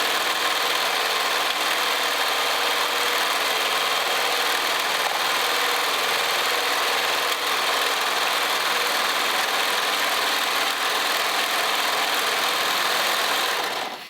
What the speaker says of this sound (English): So now we're gonna go over to our serger and sew these in.